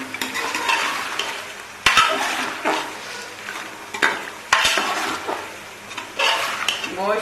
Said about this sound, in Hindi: अब इसमें ये छोटी इलायची, बड़ी इलायची और फूल बादियान और बाकी ये जो मसाले हैं, ये मैं इसमें शामिल कर लूँगी और थोड़ा सा भूनूंगी।